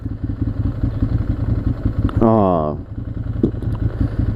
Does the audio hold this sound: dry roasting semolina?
no